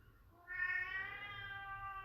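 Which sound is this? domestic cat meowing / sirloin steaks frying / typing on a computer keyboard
domestic cat meowing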